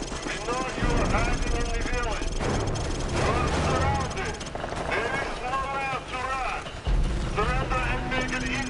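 A helicopter in Call of Duty 4: Modern Warfare drones steadily with a dense rotor and engine roar, while soldiers' voices talk over it throughout.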